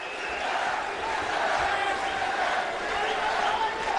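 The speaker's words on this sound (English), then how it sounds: "Listen to this crowd, their first taste of professional boxing." A large crowd at a professional boxing fight in Delhi featuring Vijendra Singh roars in a steady, dense wash of cheering and shouting that fills the arena for the whole stretch.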